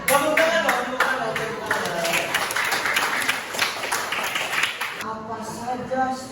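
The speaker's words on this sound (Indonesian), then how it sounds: "Tepuk tangan dong." Students in a classroom clap their hands together in a quick burst of sharp, uneven claps, with voices talking over it; the clapping stops abruptly near the end.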